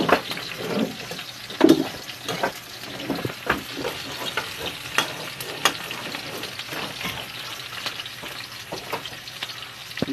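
Chopped onion and garlic sauté in a hot pan, a steady crackling sizzle broken by scraping stirs and clacks of a utensil, close and fairly loud, with no talk.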